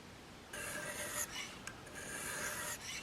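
A Magnus Bullhead knife blade being sharpened on a fine-grit abrasive, around 2000 grit: steady close scraping strokes with brief pauses between passes, no talking.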